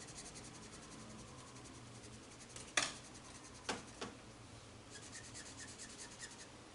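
A marker scratching and rubbing across paper while coloring a page, faint soft strokes in a quiet room, with a few sharper taps and a brief run of quick squeaky strokes toward the end.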